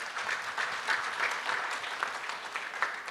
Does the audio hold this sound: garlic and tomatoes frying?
no